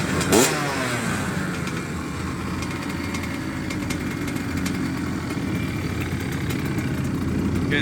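2004 Honda CR85 motorcycle engine running at first startup after repairs, a loud, steady, buzzy two-stroke idle up close with a brief rise in pitch near the start.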